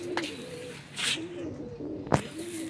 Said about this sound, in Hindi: ये पहली कबूतरी आई है गोल्डन कबूतरी